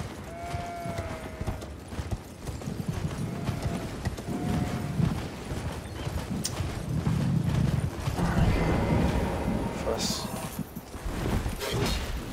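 Horse hooves gallop in a steady clip-clop rhythm during Elden Ring gameplay, with occasional whinnies and a busy bed of game effects and music around them.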